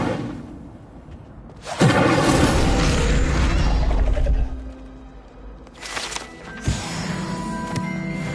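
A fire spell cast in a Harry Potter video game: a sudden whooshing burst of flame that roars for a few seconds and fades, followed by a second, smaller flare with clinking effects.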